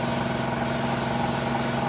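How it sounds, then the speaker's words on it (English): A trigger-operated spray gun hisses out ink in one steady, close burst onto a wood-turned workpiece, an even airy spray with no pauses and no voices. "we're just controlling the amount of ink by gently pulling that trigger back"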